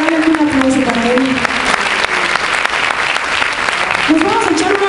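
Loud crowd applause at a live Mexican music show, sustained clapping mixed with cheering voices and some sung or called-out tones.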